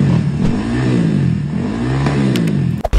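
A Honda Vario scooter engine revs hard and loud, its pitch swinging up and down in repeated surges, with a couple of sharp popping cracks near the end as flames shoot from the exhaust.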